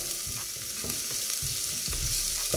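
Chopped onion sizzles in olive oil in a pan, a steady close frying hiss broken by soft stirring scrapes, with no voices.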